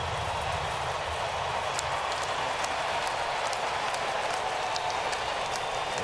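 A baseball crowd at Minute Maid Park hums and roars steadily, a dense distant wash of cheering and chatter with a few sharp claps or shouts, sustained at an even level throughout.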